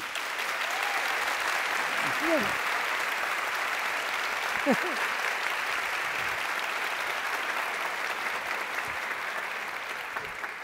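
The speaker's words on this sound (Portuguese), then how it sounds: "Palmas para eles, gente, por favor." Lecture audience at a philosophy talk breaks into sustained, even applause from many people, a steady crowd clapping that continues for over ten seconds with faint vocal sounds and a couple of whoops in it.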